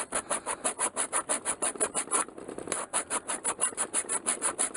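A 40 grit sandpaper file rasps back and forth across a wooden whirligig fishing lure, with steady rhythmic strokes close up and loud, a brief pause midway, and no talk.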